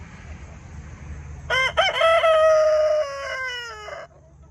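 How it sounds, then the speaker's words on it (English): A rooster crows once, loud and close, with a harmonic, drawn-out call standing out over a quiet yard with low background rumble. "The chickens were running around and the two roosters were chasing this hen"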